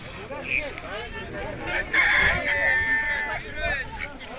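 A rooster crows among clucking chickens at close range at an outdoor poultry market in Sungurlu, Turkey, while several people chat nearby, with market babble in the background.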